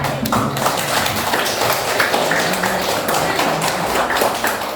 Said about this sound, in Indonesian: silakan untuk kelompok 1 duduk kembali dan kita berikan aplaus ya